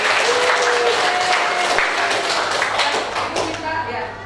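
A class of students applauds together in a classroom, with dense, loud clapping and some voices mixed in, tapering off toward the end.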